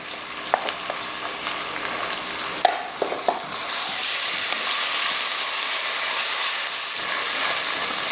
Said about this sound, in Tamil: அதான் இஞ்சி பூண்டு பேஸ்ட்டு நல்லா வதங்கினதுக்கப்புறமா